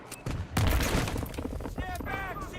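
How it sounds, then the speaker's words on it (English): C4 explosive detonates in Battlefield 3, a heavy, loud boom with rumbling low end and a burst of gunfire and debris, while game voices shout over the blast. "C4 blowing!"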